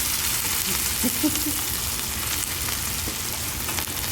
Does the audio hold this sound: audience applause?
no